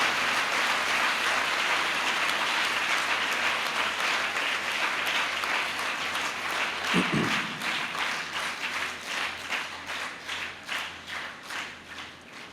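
Sustained applause from a church congregation for its priests, a dense, steady wash of many hands that slowly settles into more separate claps toward the end, with a brief low thump partway through.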